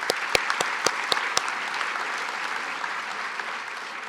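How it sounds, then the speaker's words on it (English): Audience at a veterans recognition ceremony breaks into steady applause, opening with a few sharp individual claps before settling into a continuous, even wash of clapping that carries on through the clip. "But can we have a round of applause?"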